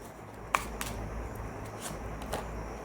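Tarot cards drawn from a deck, a few soft quick slides and flicks of card stock, close and faint, with a sharper snap early on.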